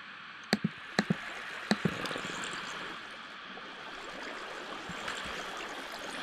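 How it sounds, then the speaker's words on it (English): Flowing water in the Minecraft video game makes a faint, steady trickling hiss throughout, with a few sharp clicks near the start. "So you have your water flowing from over here, right?"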